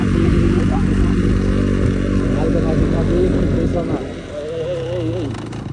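Motorbike engine droning steadily while climbing uphill on a mountain road toward Manang, loud and close throughout with a voice talking over it; the engine note dips near the end.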